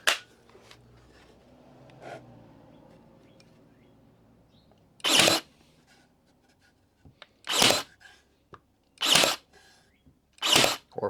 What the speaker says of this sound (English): I'm just gonna throw a couple of pin nails in here